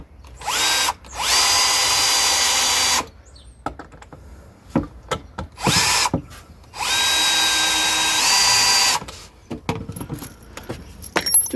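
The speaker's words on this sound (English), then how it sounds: "just a case driving the screws in first, partially. These are 4-inch screws." A power drill drives 4-inch screws into 3x2 wood for a bee hotel, with two loud sustained whirring bursts of a couple of seconds each, separated by quieter handling clicks and knocks.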